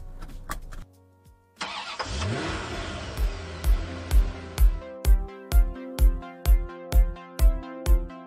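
A Roewe RX5 Plus SUV with a 1.5T turbo engine starts up and revs, a loud close engine roar swelling after ignition, then settling into a rhythmic pulsing drone with no talking.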